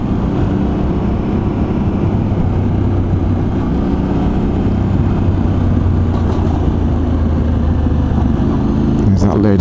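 Yamaha Tenere 700 (XTZ690 T7) motorcycle engine cruising steadily in fourth gear on a road, a continuous close low drone with wind noise throughout and brief talk over it.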